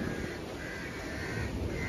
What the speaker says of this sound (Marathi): खूप कावळे पण आहेत बाहेर